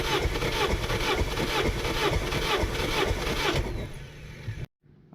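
A turbocharged Honda Civic R18 engine cranks over during a compression test, a fast rhythmic chugging from the starter for several seconds that then stops abruptly into near silence.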